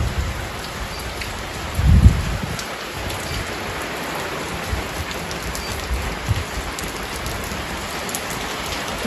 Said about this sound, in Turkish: Yağmur çok güzel yağıyor maşallah.